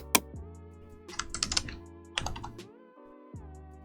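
Keystrokes on a computer keyboard while entering text into a design tool, a few isolated clicks and then short rapid bursts of typing, close and fairly quiet, with no talking.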